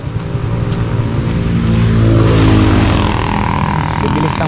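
Motorcycles speed past on a road, a loud engine roar that swells and peaks midway as it passes close by, then recedes, with a voice briefly audible underneath.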